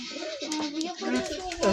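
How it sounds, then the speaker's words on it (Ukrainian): A pigeon coos in soft, throaty bursts close by, with a person speaking Ukrainian over the cooing. "Твого голуба хай літає, вони зараз і так в стресі."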